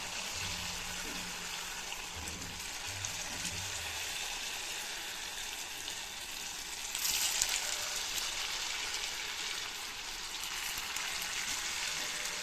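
Idli batter bondas frying in hot oil, a steady soft sizzling hiss throughout with a brief louder bubbling burst, and a low voice murmuring faintly early on.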